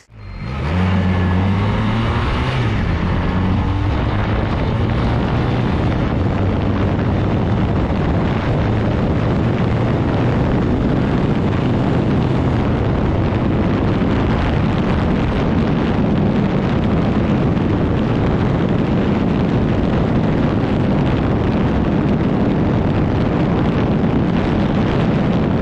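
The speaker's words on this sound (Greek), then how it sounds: "Κινητήρας ωραιότατος, ιστορικότατος," A Honda CB 250 classic motorcycle engine runs steadily and loudly up close, a dense continuous rumble with a brief revving rise at the start and wind buffeting throughout.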